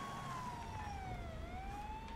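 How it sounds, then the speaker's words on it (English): A police car siren in GTA 5 wails steadily, sweeping slowly down in pitch and then back up, loud and continuous over low engine rumble with no talking. "Oh, that new siren sounds good,"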